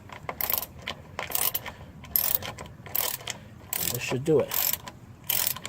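A ratchet tightens the last bolt of a running board on a 2017 Toyota Tacoma TRD Access Cab, its clicking coming in quick rhythmic bursts close by, with a person speaking briefly.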